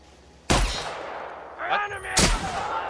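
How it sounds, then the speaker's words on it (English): A shotgun fires twice in The Outer Worlds video game, each blast loud, close and sharp with a booming tail, separated by about two seconds, with a short mechanical racking and rattling sound between them. "Let's try the shotgun"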